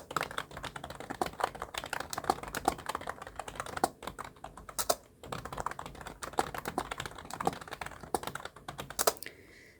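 Steady typing on a computer keyboard while working in a Hangul 2022 word processor, with quick irregular clicks and occasional louder key strikes, close and alone without talk.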